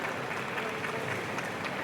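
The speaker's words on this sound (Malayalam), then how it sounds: "നിങ്ങളെല്ലാവരും ഒരുപാട് കൈയടിച്ച് പ്രോത്സാഹിപ്പിക്കണം" Audience at a Malayalam film event applauds, a brief burst of scattered, moderately loud clapping throughout.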